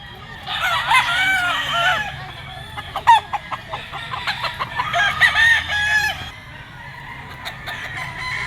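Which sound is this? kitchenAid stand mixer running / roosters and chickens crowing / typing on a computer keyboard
roosters and chickens crowing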